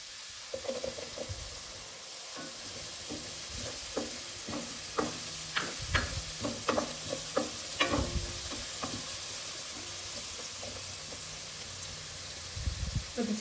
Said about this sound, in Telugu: కొద్దిసేపు ఉల్లిపాయ వేగనిద్దాం.